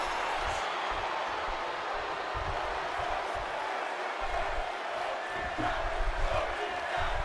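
Wrestling crowd cheering in the WWE 2K26 video game, a steady loud roar of arena noise throughout with faint thuds.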